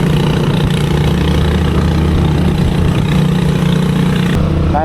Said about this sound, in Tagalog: Malakas talaga tong motor ni Jerome.